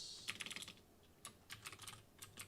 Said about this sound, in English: You guys are not seeing what I'm typing.